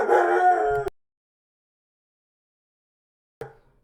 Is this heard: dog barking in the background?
yes